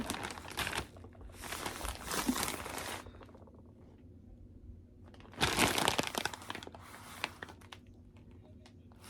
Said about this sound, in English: so I'll need to open a new bag